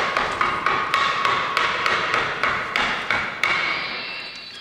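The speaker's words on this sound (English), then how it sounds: "Give me the hammer and a nail, Harriet, please." A hammer strikes a nail into a window frame in a steady series of about eleven loud, ringing blows at an even pace, close by with no talking over them.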